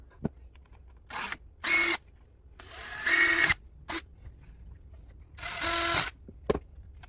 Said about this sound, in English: I'm going to drill a hole through both of them